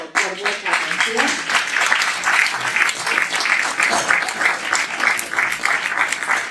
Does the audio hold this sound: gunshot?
no